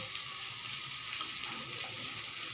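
Tomatoes hit a hot pan of rajma masala, setting off a loud, steady sizzle and hiss of frying that holds without a break.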